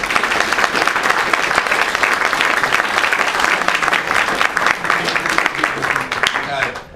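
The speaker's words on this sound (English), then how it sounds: "I want to clap to you" An audience at a University of Toronto lecture event breaks into sustained, dense applause that stays steady and loud throughout before thinning slightly at the very end.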